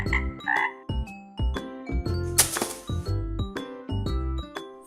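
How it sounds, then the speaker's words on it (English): Frog croaking from a kids' educational animal toy, a loud, close series of rhythmic croaks in quick bursts, with a bright synthetic ring to each call. "Frog."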